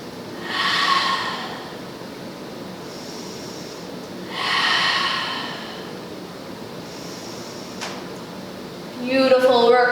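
Slow, deep breathing during a held yoga pose, with two long audible exhales a few seconds apart, close to the microphone, and a brief voice at the end.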